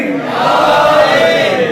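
A large gathering at a religious sermon shouts the Haidri slogan in unison, a loud, sustained, near roar of many voices.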